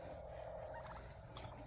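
Several roosters fighting in a hen house gobble and squawk in a rough, overlapping chorus, the calls steady and fairly close against a constant background hum.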